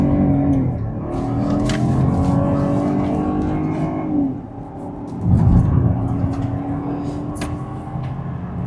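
A facelifted Ford Kuga in sport mode revs under light throttle. The engine hum rises and falls in gentle sweeps, with one stronger push midway and faint clicks over a steady background.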